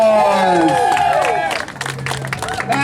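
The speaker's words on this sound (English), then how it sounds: "I think you need to give him another round of applause" An audience at a live sideshow act cheers and whoops, then breaks into a round of clapping, loud and close, with shouted voices mixed through the applause.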